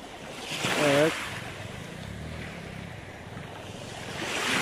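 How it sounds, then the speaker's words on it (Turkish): Sea waves washing onto the shore at Kefken at sunset, a soft rolling surf with wind, swelling toward the end, with a brief distant tonal sound early on. "Dalgalar, evet."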